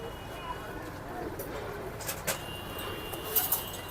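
Pigeons coo softly amid the busy, noisy backdrop of the Tongi pigeon market, with people chatting and haggling nearby.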